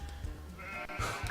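A sheep in the video game Magical Melody gives a short bleat over game background music, with a couple of brief tonal calls mixed in.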